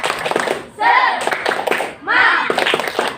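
Schoolchildren in an Indonesian classroom do a rhythmic 'tepuk semangat' clapping chant, sharp patterned claps mixed with loud group chanting voices, in bursts close to the listener.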